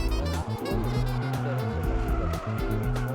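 An old car drifts sideways through a corner under throttle, its engine roaring loudly and steadily with squealing tyres running throughout.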